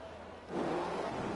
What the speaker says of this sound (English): Engine revs rise.